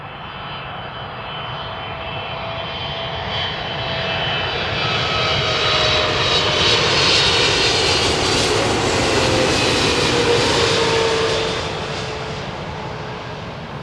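Singapore Airlines airliner landing on runway 27 left at London Heathrow, a loud steady jet engine roar that swells as the aircraft passes close and then slowly fades.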